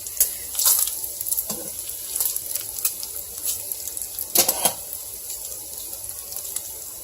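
Bacon frying in a pan on a kitchen stovetop, a steady crackling sizzle with bright spitting pops and a few louder bursts of fat spattering, close and continuous with no voices.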